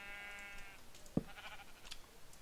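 A sheep bleats in Minecraft with a single harmonic, wavering call lasting over a second, followed by a short thump and faint game sounds, with no talk.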